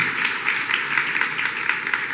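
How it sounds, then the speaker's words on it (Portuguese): Steady applause from a church congregation, an even wash of clapping with no pauses. "Uma salva de palmas para vocês."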